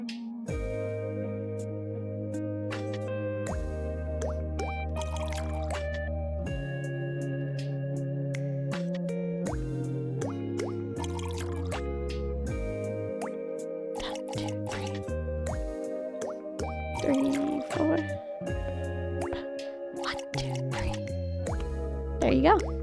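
Water droplets drip and plop in a counted rhythm in the rhythm game Melatonin, set against layered synth music with sustained tones and sharp transients throughout.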